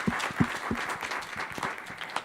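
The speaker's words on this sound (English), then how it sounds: "maybe give them a round of applause for everything that they do in the county." A county audience gives a short round of applause, moderate clapping that rises and tapers over a couple of seconds with no voices.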